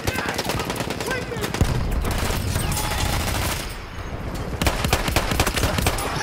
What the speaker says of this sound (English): He was burning and I shoot him with one pistol shot and I kill him.